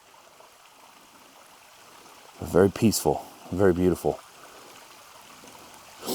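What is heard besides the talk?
small creek flowing over desert rocks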